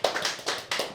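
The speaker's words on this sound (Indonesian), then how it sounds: "Silakan Mas, boleh tepuk tangan dulu?" Audience claps for a visiting YouTuber guest in a studio, three short bursts of hand claps close by with no talking.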